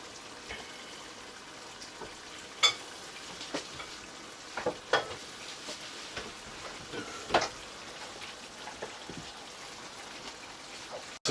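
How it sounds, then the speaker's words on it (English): Onions fry in a pot for jollof rice, a soft, fairly quiet sizzle running steadily with scattered pops and stirring knocks spaced irregularly across the stretch. "So we're just going to add a few onions to it."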